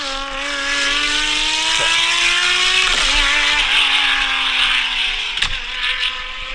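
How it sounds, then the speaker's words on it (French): Engine of a new Delage supercar roaring steadily at high revs with rising and shifting harmonic tones, loud and close throughout, briefly dipping between gear changes. "écoutez que ça, le bruit de cette voiture"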